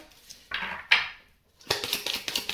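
A few scattered sharp knocks and clicks from a neighbour's construction work on tarmac, separated by short pauses, then a denser burst of clattering taps; no voices.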